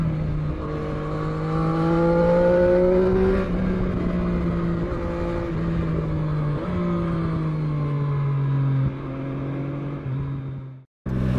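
A 2020 Triumph Street Triple RS motorcycle revs and pulls away, its engine note rising and falling through gear changes, loud and close throughout before cutting off abruptly near the end.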